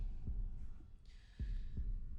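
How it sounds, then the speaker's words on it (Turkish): A low heartbeat thumps slowly, with a few deep pulses spaced about half a second to a second apart under a faint steady hum, close and muffled with no talk. "Şimdi kalp atışlarınızı duymamaya çalışın."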